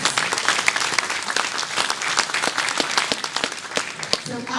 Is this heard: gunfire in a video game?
no